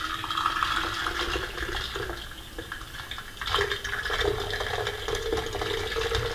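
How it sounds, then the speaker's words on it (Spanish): A celandine decoction is poured through a strainer into a bottle, making a steady splashing, trickling stream of liquid that lasts several seconds and swells briefly midway. The sound is close, with no talking. "pues ahora la vamos a colar y la metemos en la botella"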